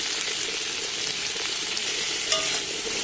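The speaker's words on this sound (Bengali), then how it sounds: "মশলাটা ভালো করে কষিয়ে নেব" Tomato, salt and turmeric spice paste frying in hot oil, a dense continuous sizzle with faint stirring scrapes, close and steady throughout, no voices.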